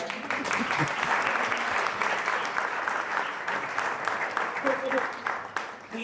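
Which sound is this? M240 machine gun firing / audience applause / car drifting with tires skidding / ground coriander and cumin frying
audience applause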